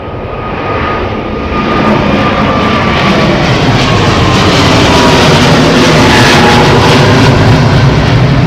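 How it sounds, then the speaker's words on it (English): Jet engines on a British Airways Airbus A380 at Heathrow thunder close and loud, a broad, deep roar that builds in the first two seconds and then holds steady and powerful. "This BA 380 could be deep and loud."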